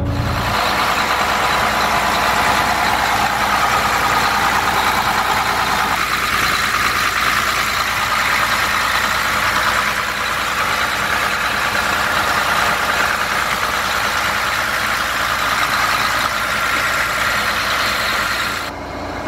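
The rear-mounted engine of a New Holland 8055 combine, converted into a TC57 Hydro, idles close by with a constant low rumble and a broad mechanical hiss, steady throughout with no voices.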